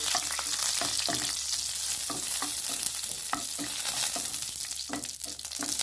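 Dried red chillies and onions frying in coconut oil in a pan, with a steady dense sizzle and repeated stirring scrapes sounding close and loud, alone with no talk.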